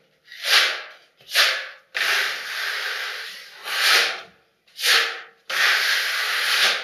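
A 45 cm and 25 cm smoothing blade scrapes plaster filler across a ceiling in a run of rasping strokes, short swipes alternating with longer drawn passes, close and crisp with no talk.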